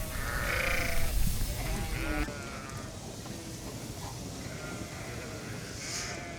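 Sheep bleat repeatedly at feeding time on a farm, with several overlapping calls near and farther off over a constant outdoor hum of engine or wind.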